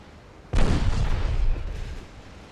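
A torpedo exploding in an 1894-era naval battle game: after a quiet moment, one sudden heavy boom erupts, then rumbles and slowly fades over about a second and a half.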